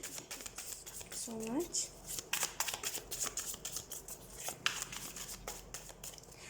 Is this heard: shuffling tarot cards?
yes